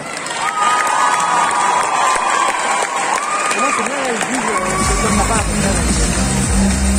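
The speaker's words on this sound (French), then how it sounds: "Et je vous demande d'applaudir bien fort Onoka Kosaka." A crowd at a cosplay contest in Nantes applauds and cheers loudly and steadily, with shouts and whoops rising above the clapping throughout.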